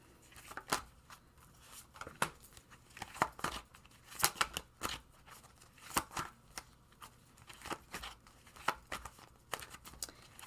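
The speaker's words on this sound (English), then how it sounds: "I'm even kicking it to my old style of shuffling too." Tarot cards are shuffled by hand in irregular bursts of riffling and soft slaps, quiet and close, with short pauses between handfuls and no talking.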